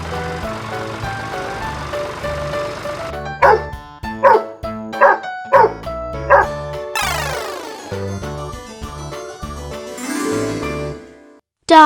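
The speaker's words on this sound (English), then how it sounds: "Dog." Dog barking in a series of about six loud, evenly spaced barks, preceded by a sustained tonal sound and followed by a rising synthetic sweep.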